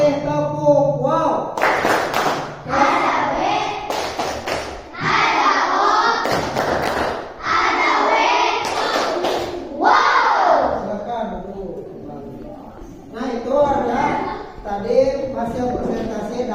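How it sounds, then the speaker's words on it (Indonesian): A classroom of students claps and cheers for the last presenting group in repeated loud bursts, with scattered shouts and thumps between them and a teacher's voice nearby. "Nah, kasih tepuk tangan dulu untuk kelompok terakhir ini."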